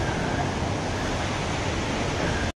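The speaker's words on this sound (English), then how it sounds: "There's another waterfall down here." A continuous broadband roar of rushing water near Multnomah Falls, Oregon, loud and steady with no break until it cuts off abruptly at the end.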